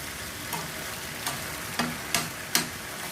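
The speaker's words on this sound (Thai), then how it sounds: "ได้ผัดดอกหอมกระทะใหญ่เลย" Food sizzles steadily in a large wok while stir-frying flowering garlic chives with marinated pork, a metal spatula scraping and clanking against it five times at irregular intervals, fairly quiet and close.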